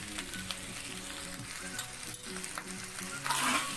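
Cooked, cooled rice stir-fries with vegetables for restaurant-style vegetable fried rice, a soft continuous sizzle with scraping stirs and a louder hiss near the end, close by and without talking.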